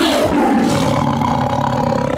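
A tiger gives one long, loud, rumbling roar that fills the whole moment up close, heard from a scene in a Nickelodeon sitcom about a superhero family.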